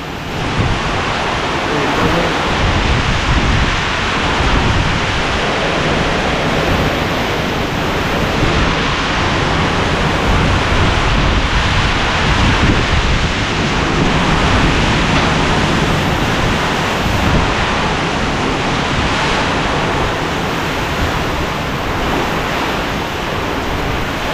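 Strong, sustained typhoon wind during Super Typhoon Uwan roars as continuous loud broadband rushing for the whole stretch, with gusty swells and no clear speech.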